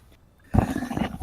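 A single loud, explosive human sneeze right next to the microphone. It bursts out suddenly after near silence and trails off briefly.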